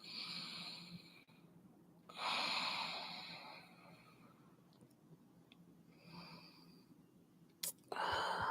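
Slow, deep breaths during a neck and shoulder yoga practice, with a few soft, breathy inhale and exhale swells rising and fading over a quiet room, no talking.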